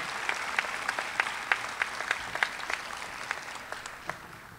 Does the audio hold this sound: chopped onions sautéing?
no